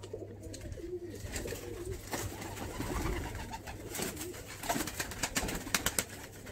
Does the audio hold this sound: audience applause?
no